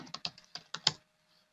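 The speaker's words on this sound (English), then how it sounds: "Let's type our password." A password is typed on a computer keyboard, about seven quick, close key clicks in an uneven rhythm that stop after a second and leave quiet.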